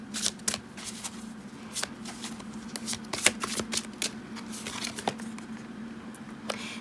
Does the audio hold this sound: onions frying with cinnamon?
no